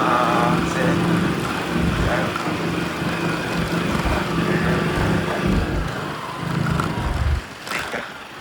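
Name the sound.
motorbike engine while riding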